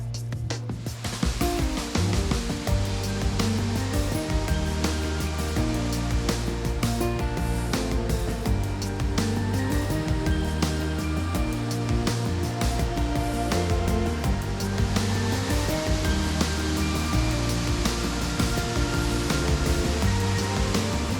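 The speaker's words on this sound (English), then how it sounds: "It's not like a typical waterfall that we've seen" A multi-level waterfall with very clear water, turning partway down its course, gives a loud, steady broadband rush of falling water with no talk over it.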